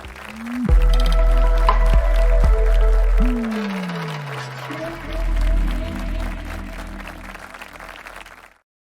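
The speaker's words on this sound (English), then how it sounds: "Please welcome Ms. Neelam Dhawan with a huge round of applause" Applause at a conference as a speaker is welcomed to the stage, steady and fairly loud for most of several seconds, with musical tones underneath, fading toward the end.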